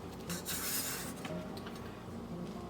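A utensil scrapes around the edge of a freshly cooled Japanese-style mascarpone cheesecake in its pan, a close, continuous rubbing and rasping sound lasting a couple of seconds, with no voices.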